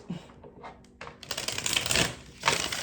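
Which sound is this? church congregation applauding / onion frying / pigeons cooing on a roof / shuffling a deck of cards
shuffling a deck of cards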